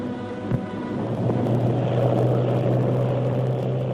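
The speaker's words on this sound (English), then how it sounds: "Groups of aeroplanes dived in formation, showering congratulatory leaflets all around." Aeroplanes diving in formation over an Afghan Independence Day celebration in 1949, a steady loud propeller-engine drone that holds throughout, with a brief thump near the start.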